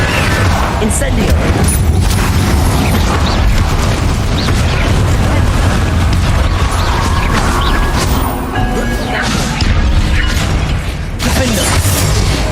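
Repeated Incendio fire spell casts in Hogwarts Legacy amid a steady barrage of booming, crashing combat effects, loud and dense throughout with little pause.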